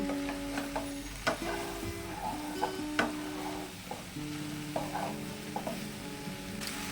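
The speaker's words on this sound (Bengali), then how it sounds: "সর্ষে দিয়ে বেশি কষাবো না, 1 মিনিট মতো মিশিয়ে নেব।" Pumpkin stem curry with mustard paste is stirred and fried in a pan, with a steady sizzle under repeated scraping and clinking stirs close by, and no talking.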